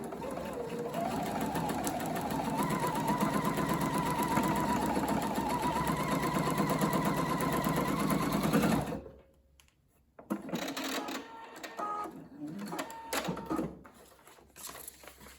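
A sewing machine stitches a paper-pieced patchwork seam, running steadily and loudly for about nine seconds before stopping, followed by rustling and handling sounds.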